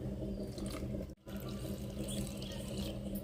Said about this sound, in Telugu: నీళ్ళు అయితే వేసి మంచిగా కలిపేసి పెడదాం